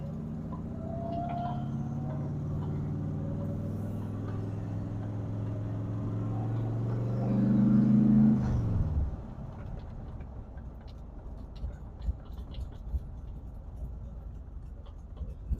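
Big-block C3 Corvette with a Muncie four-speed, fresh after its first start, idling and revving as it sets off on a drive, a steady loud rumble rising to a brief roar, then fading into distant road noise.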